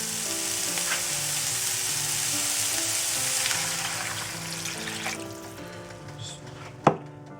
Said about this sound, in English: So now I'm going to add some water.